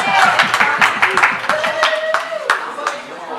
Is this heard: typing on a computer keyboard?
no